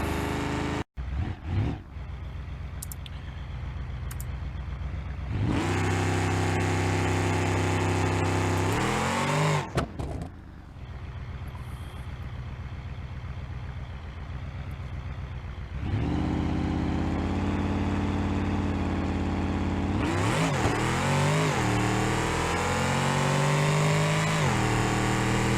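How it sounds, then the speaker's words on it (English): Car engine in BeamNG.drive with a trans brake held, revving hard in long loud bursts that rise and fall between quieter idling stretches. "I'm gonna try to give it some RPM."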